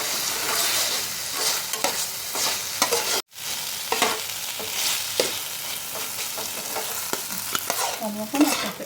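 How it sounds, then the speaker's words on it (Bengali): Cooked chicken with fresh coriander leaves being stirred in a hot pan, with repeated scraping strokes over a steady sizzle and no one talking. "এটাকে একটু নাড়াচাড়া করে নিয়ে আমি নামিয়ে নেব"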